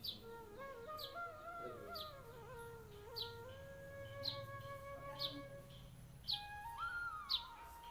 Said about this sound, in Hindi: ये गौरैया की आवाज़ है।